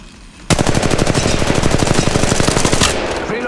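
Automatic weapon fire in the mobile shooter Apex Legends Mobile: a sudden, loud, rapid burst of evenly spaced shots lasting a few seconds before cutting off, close and alone.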